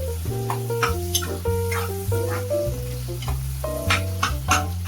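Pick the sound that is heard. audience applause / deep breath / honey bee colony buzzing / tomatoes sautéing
tomatoes sautéing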